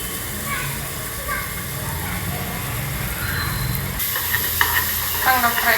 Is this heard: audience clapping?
no